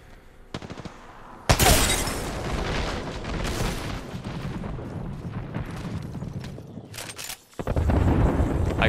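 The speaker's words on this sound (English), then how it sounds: "Grenade." A grenade goes off in a video game, a sudden loud blast that rolls into a sustained roar and crackle, then a second heavy burst near the end, with no voices.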